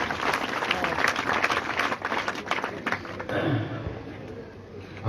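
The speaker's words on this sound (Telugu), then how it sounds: "కలెక్టర్ అంటే చప్పట్లు కొట్టారు మీరు" An audience at a foundation-stone ceremony for a government school in Kammarpalli, attended by a minister, breaks into lively clapping that fades after a few seconds, mixed with a speaker's voice.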